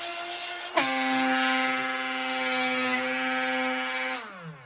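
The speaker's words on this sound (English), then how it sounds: "So you're here for the Dremel chainsaw sharpening." A Dremel rotary tool sharpening a chainsaw chain gives a loud, steady high-pitched whine that spins up sharply, holds with grinding rasp for a few seconds, then winds down, heard close and with no talk.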